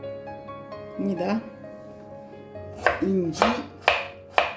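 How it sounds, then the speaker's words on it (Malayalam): A knife chops onion finely on a board for crispy vada, giving a burst of quick cuts and then sharp repeated strokes, while someone talks over the chopping. "ഉള്ളി പൊടി പൊടിയായിട്ട് അരിയാം."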